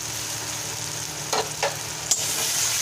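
Pointed gourd mash being stirred in a pan with a little sugar and turmeric, a steady close sizzle with a few soft scraping strokes of the spoon and one brief clack near the end.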